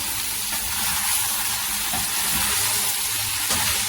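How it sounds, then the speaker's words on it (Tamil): Eggplant fries in hot oil with a continuous loud hiss and sizzle, steady and close, with faint crackles scattered through it. "இது ஒரு 5 நிமிஷம் அந்த கத்திரிக்காய் இந்த எண்ணெயிலே நல்லா வேகணும்"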